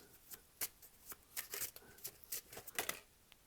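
Tarot cards shuffled by hand before a reading, giving a quick run of crisp riffling flicks and soft slaps close up, fairly quiet, with no talking.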